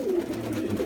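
Pigeons cooing softly in a loft, a low steady murmuring coo running through the whole short stretch at close range.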